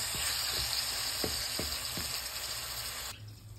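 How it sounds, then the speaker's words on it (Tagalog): Pork sautéing with garlic to render its fat, a continuous close sizzle with a few soft stirring knocks, cutting off sharply near the end; no one speaks. "Gisa-gisa lang natin yung dyan hanggang mag-render siya ng kanyang fat."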